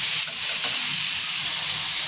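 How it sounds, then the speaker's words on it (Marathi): Tomato frying with onion in a hot pan, giving a loud, continuous hissing sizzle heard up close with no voices. "त्याच्यामध्ये मी टोमॅटो टाकून घेते आणि हे सुद्धा त्याच्यामध्ये भाजून घेणार आहे"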